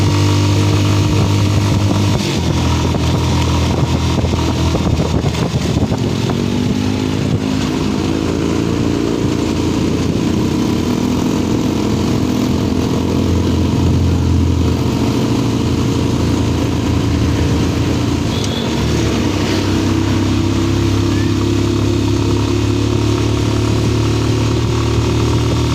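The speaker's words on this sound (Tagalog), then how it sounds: "Hirap yung motor eh." A motorcycle engine strains while climbing a steep uphill road on a group charity ride at Marilaque, its loud, continuous drone rising and falling in pitch up close with no talk over it.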